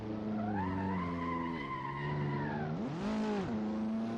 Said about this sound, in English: Brakes and tires definitely lock up in this physics model